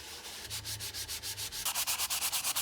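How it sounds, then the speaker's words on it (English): Rhythmic back-and-forth wet sanding strokes on resin, brisk and close, growing louder and sharper partway through. "It has to be wet sanding."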